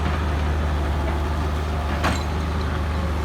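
A tractor engine runs at a steady, close, low rumbling idle, with a single brief click partway through and no talking.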